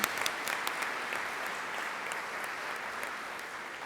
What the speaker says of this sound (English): I would very much like to have a round of applause for those 3 outgoing members of council.